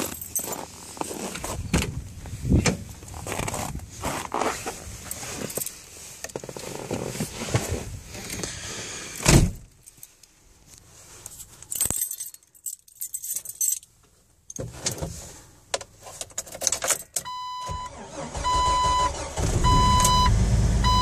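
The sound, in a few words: 2004 Jeep Wrangler engine cold start at -19 °C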